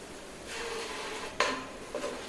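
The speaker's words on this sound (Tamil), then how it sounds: "ஸ்டவ் ஃபுல் ஃப்ளேம் வச்சு நல்லா கிளறுங்குங்க" Garlic, ginger and sauce stirred in a pan over full flame for Schezwan fried rice, a steady soft sizzle with a sharp utensil scrape and a lighter clink against the pan.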